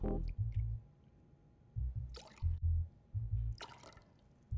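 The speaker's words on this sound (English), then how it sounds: "Then I'm going to go ahead and add an ounce and a half of Aplós Calme." Aplós Calme non-alcoholic spirit poured into a cocktail glass, a few short soft liquid glugs and drips in separate bursts, quiet and close, with no talking.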